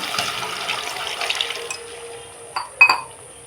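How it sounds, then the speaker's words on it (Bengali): Water is poured into a cooking pan over sautéed spices for a vegetarian eggplant (begun bahar) curry, a running splash that tapers off, followed by a couple of short, close splashes near the end. "সমস্ত কিছু ভালো করে কষানোর পর জল দিয়ে দেবো"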